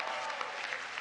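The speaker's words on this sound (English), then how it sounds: "Yes, you are cheering for furniture." A dinner audience at the 2023 White House Correspondents' Dinner cheers and applauds, a dense steady wash of clapping and crowd noise throughout, loud and close.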